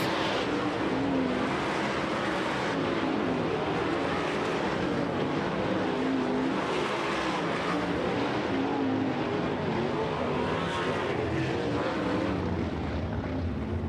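Sprint cars running hot laps on the dirt oval at Kokomo Speedway during a Bryan Clauson Hero Classic preview session: a steady, broad engine roar heard from a distance, continuous throughout with no talk.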